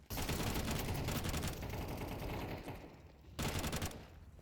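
FAMAS rifle gunfire in Counter-Strike, a dense, loud stream of rapid automatic shots that runs several seconds, pauses briefly, then resumes in a short burst.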